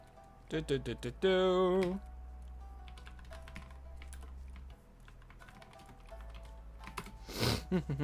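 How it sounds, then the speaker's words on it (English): Quick bursts of typing on a computer keyboard during a Pokémon Legends Z-A stream, faint clicks in short runs, with a person talking and game music underneath. "You're gonna hear me typing a little."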